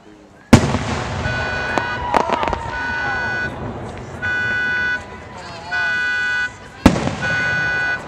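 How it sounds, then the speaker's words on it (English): A fireworks display at UMass Amherst cracks and booms with sharp loud bursts, while a car alarm whoops in repeating cycles nearby and voices are heard in the crowd. "UMass fireworks at UMass Amherst."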